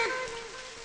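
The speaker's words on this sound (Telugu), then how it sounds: "మామూలుగా లేదు వర్షం." Heavy rain pours down during a trip to Vijayawada, a steady dense hiss with no break.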